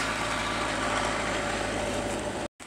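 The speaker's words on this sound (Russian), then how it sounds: "Трактор едет." A tractor engine drives past on a farm, a steady loud rumble with a constant hum holding level for over two seconds before cutting off abruptly near the end.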